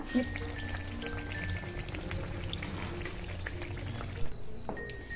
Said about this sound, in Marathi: अशाच प्रकारे आपण बाकीचे सगळे वडे थापून आणि भाजून घेऊया.